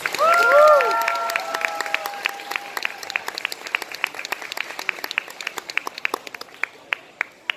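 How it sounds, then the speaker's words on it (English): Applause for a GLaDOS cosplayer at a cosplay competition, opening with a brief burst of cheering voices, then settling into scattered, individually distinct claps that gradually thin out and grow sparser. "So big round of applause for GLaDOS"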